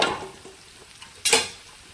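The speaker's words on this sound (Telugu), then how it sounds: "పప్పు ఇందులో పోసేస్తున్నాను" Cooked dal with spinach-type greens hits a hot tempering of oil, dried red chillies, garlic and curry leaves, giving a sudden loud sizzling burst with stirring, after a quieter stretch of faint scraping.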